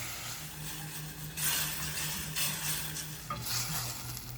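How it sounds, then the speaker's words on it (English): Butternut squash risotto is stirred in a pan as warm stock is added a little at a time, with a soft scraping stir over a faint sizzle, close and quiet, no talking. "Gotta put it in a little bit at a time, okay? And you keep moving it around."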